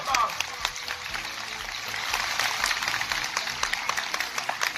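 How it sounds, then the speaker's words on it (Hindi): A crowd gives sustained, fairly loud applause to welcome a guest at a memorial committee gathering in Lucknow, steady clapping filling the whole stretch. "एक बार जोरदार तालियां बजाइए"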